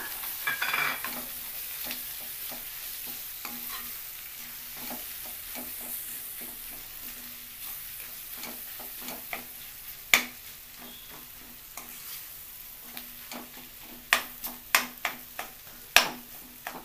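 Mashed potato paste being stirred into a frying poori curry in a hotel-style preparation, with a low steady sizzle beneath occasional scraping stirs and a few sharp spoon knocks against the pan near the end.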